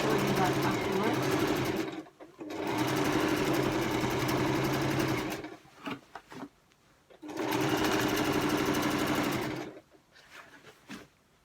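Sewing machine stitches a seam on a beginner's scrub laundry wash bag, three long, steady motor-driven runs of rapid needle clatter separated by short pauses, close up, with some talk in the gaps.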